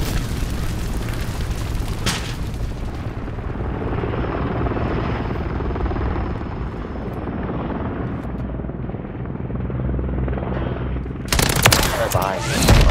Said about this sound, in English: Fucking chopper, team bro.